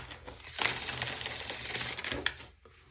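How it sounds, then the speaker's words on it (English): Tarot cards riffled and shuffled by hand, a dense papery flutter that runs steadily for about a second and a half, ends in a sharper snap, then fades to quiet. "So let's get one more shuffle."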